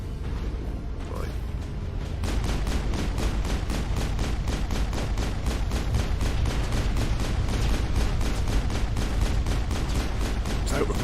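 Rapid, sustained gunfire from Mass Effect sounds as a continuous rattling burst of evenly spaced shots after a short quieter opening, loud and close, with someone talking over it.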